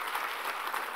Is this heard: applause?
yes